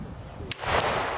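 A suppressed gunshot at an outdoor silencer shoot: a single short, fairly muted crack, followed by a steady background rumble of wind or ambient noise.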